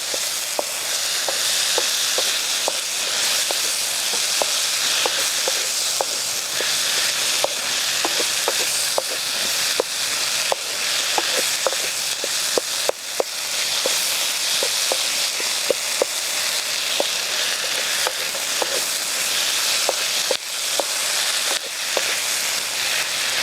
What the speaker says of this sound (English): We're going to saute the onion and the garlic and the tomato until the juice of the 3 comes out